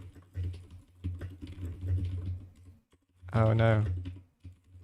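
Rapid keyboard typing during a speed typing test, with dense irregular clicks running under a voice, which breaks in with a short louder exclamation near the end.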